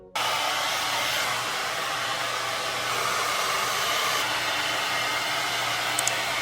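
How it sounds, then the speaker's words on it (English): A hair dryer blowing on locs after a wash switches on abruptly and runs at a loud, steady roar close by for several seconds, with no talk. "I'm just gonna blow dry it"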